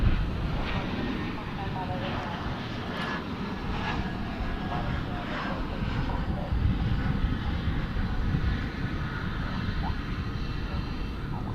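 A Turkish Airlines Boeing Dreamliner jet at DFW airport gives a steady broad engine roar with wind noise at a moderate distance, and a voice talks faintly underneath.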